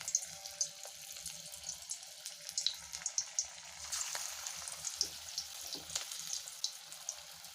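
Jackfruit fritters fry in hot oil with a steady, faint hiss and light crackle, broken by scattered small pops and spits.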